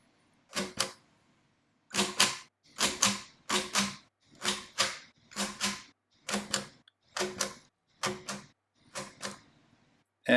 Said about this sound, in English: So that's the Centigraph adding machine.